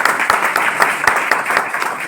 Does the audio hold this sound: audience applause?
yes